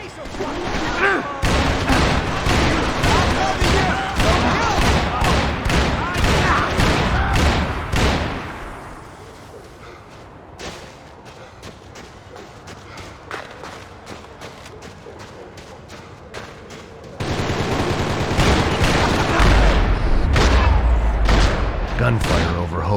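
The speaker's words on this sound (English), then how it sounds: "Gunfire over Hoboken." Gunfire in the video game Max Payne 3 over Hoboken: dense bursts of shots and booms rattle for several seconds, ease into quieter sporadic reports, then surge back loud near the end, with voices mixed in.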